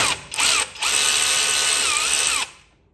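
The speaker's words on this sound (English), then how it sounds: "So pull the center bolt out." A power tool spins out the center bolt of a Toyota Tacoma wheel hub, two short revving bursts followed by a steady loud two-second whir that stops abruptly.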